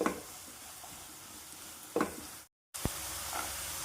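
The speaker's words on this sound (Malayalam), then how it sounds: "ബാക്കി മഞ്ഞൾപ്പൊടി, മുളക് പൊടി നന്നായി മിക്സ് ചെയ്യാം." Spices, turmeric and chili powder, being stirred into poha in a pan over a low, steady sizzle, with two brief scraping strokes, a short gap of silence and a clack as the stirring resumes.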